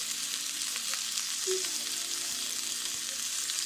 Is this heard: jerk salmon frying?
yes